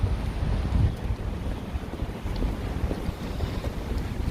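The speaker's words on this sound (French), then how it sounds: "Encore et toujours du vent." Strong gusts buffet an outdoor microphone in a city street, producing a continuous low rumbling roar that surges and fades unevenly, with no voices heard.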